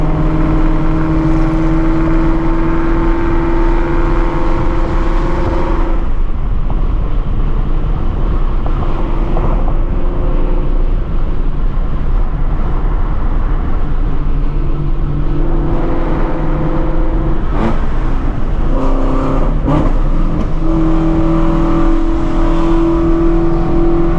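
A 700 hp Procharged Shelby GT350 driven hard, its engine roaring loud and continuous from inside the car with crackling exhaust pops and bangs breaking through, alongside road and wind rush.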